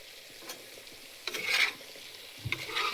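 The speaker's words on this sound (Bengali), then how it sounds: "নাড়াচাড়া করে ঢেকে রাখবো 5 মিনিটের জন্য" Small fish chochchori being stirred in a pan, a few brief scraping swishes over a soft sizzle, with a fainter stir early on and louder strokes near the end.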